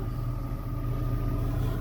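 A two-cylinder compressor, driven through a hydraulic coupling and belt, runs inside the compressor compartment of a TGM23 diesel shunting locomotive, giving a loud, steady low rumbling drone without pause.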